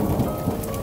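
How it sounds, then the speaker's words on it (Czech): Thunderstorm in a video game: steady, loud rain and a deep rolling rumble of thunder fill the scene without pause, with no speech over it. "No tak vyzerá to asi na búrku."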